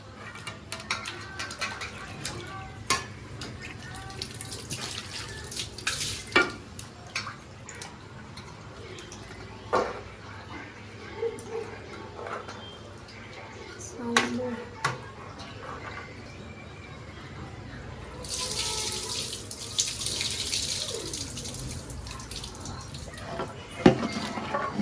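Raw mangoes being rinsed under a running kitchen tap before pickle-making: faint drips and splashes of water that swell into a steadier gush of flow near the end, with light handling knocks throughout.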